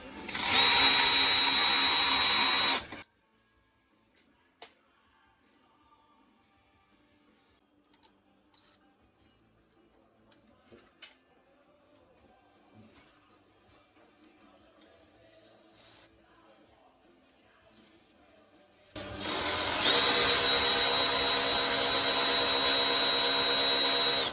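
A power tool drives fasteners on a Jeep transmission pan, with two loud sustained whirring runs at the start and end separated by a long quiet stretch of faint clicks and taps.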